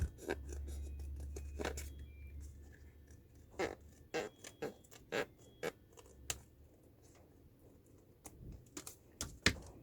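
Card being cut around a curve while making a lift-and-reveal box: a faint, close series of small snips and papery crackles at irregular intervals, with low background hum and no talk.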